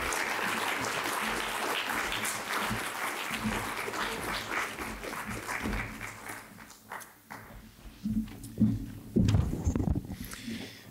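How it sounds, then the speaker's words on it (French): A public meeting audience in Lille gives dense, sustained applause that thins out and fades after several seconds, leaving scattered claps and shuffling movement in the room. "je pense qu'on peut tous l'applaudir pour ce beau travail"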